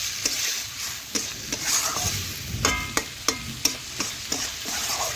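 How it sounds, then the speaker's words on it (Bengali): Chicken pieces frying with spices in a hot pan, a steady sizzle broken by repeated scrapes and taps of a spatula stirring the meat, close and alone without talk. "মাংস দিয়ে দিয়েছি, আর আমি ভালোভাবে একটু মশলার সাথে কষে নিচ্ছি"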